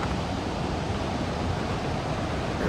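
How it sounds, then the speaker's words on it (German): Gullfoss waterfall in Iceland gives a steady, dense broadband roar with no breaks, near and loud, mixed with wind buffeting outdoors in the Golden Circle landscape. "Der Gullfoss Waterfall, einer der Hauptwasserfälle hier auf Island."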